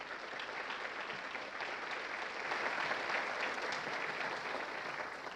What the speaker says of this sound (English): another big round of applause for the finalists today